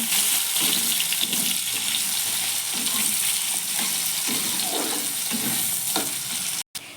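Chopped onions fry in a pan for a Bengali fish-head and cabbage curry, giving a steady, close sizzle with soft stirring scrapes throughout, no voices, and a brief dropout near the end.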